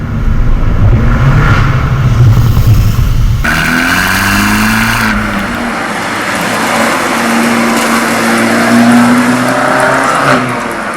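A loud 2018 Abarth 595 Pista engine revs hard, its elaborate exhaust roaring and rising in pitch before settling into a steady, throaty drone.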